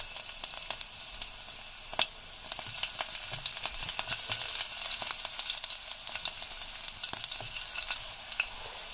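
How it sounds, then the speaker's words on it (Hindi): Chopped garlic frying slowly in oil in a kadhai, a soft continuous sizzle with faint crackles and occasional light stirring, close and fairly quiet with no talking. "ये हमारी लहसुन जो है वो फ्राई हो रही है स्लो और हल्की सी लाइट ब्राउन हो जाए।"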